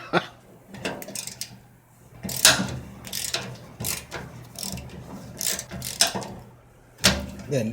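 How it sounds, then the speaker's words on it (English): An old 1/4 inch Craftsman ratchet turning a nut while working on a kerosene heater: bursts of close, crisp clicking pawl sounds in short runs with pauses, no talk. "And Dad's toy calls for Dad's tools. 1/4 inch Craftsman."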